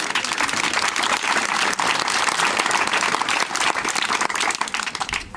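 An audience at a hospital event in Gramat breaks into loud, dense applause, many hands clapping at once in a sustained roar that keeps going for several seconds before thinning slightly at the end.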